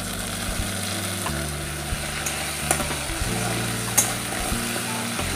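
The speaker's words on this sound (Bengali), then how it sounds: "ভালো করে কষিয়ে নেব যতক্ষণ না পেঁয়াজ রসুনের কাঁচা গন্ধটা চলে না যায়" Onions with ginger, garlic and chili paste sauté loudly in a pan, a steady close sizzle with intermittent stirring scrapes and clinks over a constant low hum.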